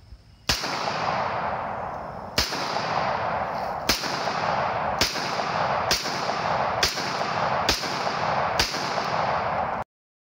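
A 1911 pistol fires eight sharp, loud shots at uneven intervals of about one to two seconds, each crack followed by lingering outdoor echo, ending in abrupt silence.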